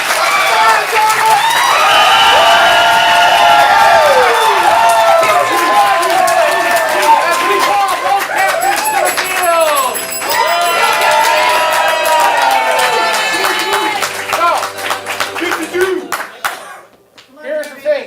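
A comedy improv show audience claps and cheers loudly, a sustained roar of clapping and shouting with whoops and voices rising through it, building then tapering off and breaking apart near the end.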